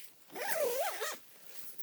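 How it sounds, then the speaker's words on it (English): A zipper pulled down along the door of a Hilleberg Akto winter tent in one smooth, close, rising-and-falling rasp lasting about a second. "So we can zip this door down"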